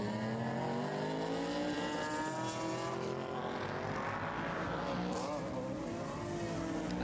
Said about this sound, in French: La Dodge Charger de 500 chevaux face à la E30 de, je vais pas dire seulement, mais 350 chevaux quand même.